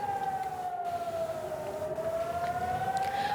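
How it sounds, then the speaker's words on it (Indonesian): Civil defense air raid siren wailing steadily during a Hezbollah rocket attack on Nahariya, one long tone slowly dipping and rising again, loud and continuous with no voices. "Sirine terus berbunyi tanpa henti saat rudal memasuki langit kota Naharia."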